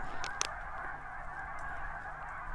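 A large flock of geese honks continuously in the distance, a dense overlapping chorus of calls with a couple of sharper clicks near the start.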